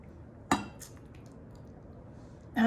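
A pot of pasta being stirred, two sharp metallic clinks of a utensil against the pot separated by a quiet stretch, close and fairly soft.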